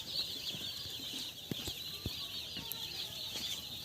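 Three-day-old poultry chicks in a brooding shed make a continuous high, wavering chorus of peeping, fairly faint and steady, broken by a few soft thumps.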